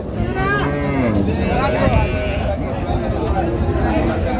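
Dairy cows and calves moo at a cattle market in Raniganj, Dinajpur, over a low, continuous hum of farm noise. Several drawn-out lowing calls overlap in the first half, followed by quieter rumbling.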